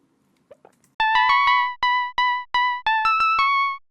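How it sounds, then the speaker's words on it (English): A dry, effect-free 1980s-style synth plays a quick run of about eleven sharp, bright notes with clean, abrupt cutoffs, preceded by a faint breath or small noise. "here's how the synth would sound without any effects at all"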